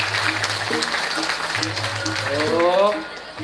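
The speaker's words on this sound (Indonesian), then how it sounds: "Kita tepuk tangan." An audience claps at a Balinese Arja performance, a steady wash of applause running throughout under an amplified voice and music.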